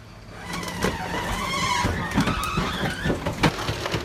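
A large garbage truck compactor grinding bulky curbside waste such as furniture on a street in Bonn, a loud continuous mechanical roar with intermittent cracks and creaks as items break up, heard close by.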